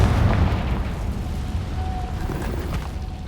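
Confringo fire spell explosion in Hogwarts Legacy gameplay: a loud, booming blast at the start that rumbles and crackles away over a few seconds, with no talk.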